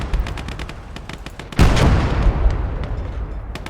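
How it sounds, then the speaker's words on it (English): A heavy gun fires in the video game Motherland amid a rapid series of sharp shots, with one loud blast in the middle followed by a rumbling tail while more gunfire keeps going. "Okay, we're going to come up here with this heavy gun."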